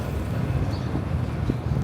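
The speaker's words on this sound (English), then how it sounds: "Ooh, it's windy now." Wind rushes and buffets a microphone on a Manhattan street, a steady low rumbling roar with no pauses.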